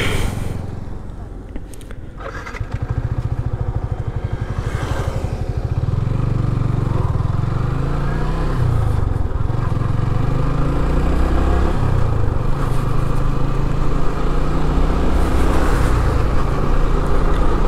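A motorcycle cruises along a road with a steady, close engine drone and wind rush that hold throughout, while the rider talks over it.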